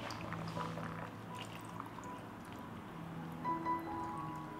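Brine of salt water being poured into a jar of cabbage to cover it, a soft continuous trickle with faint drips nearby, no voices.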